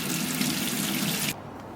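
Hot tap water running steadily into a sink to warm a tube of silicone, a loud close gushing stream that cuts off abruptly near the end.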